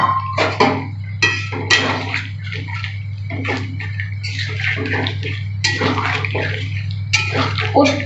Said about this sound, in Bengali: পোস্তর বাটিটা ধুয়ে একটু জল দেব।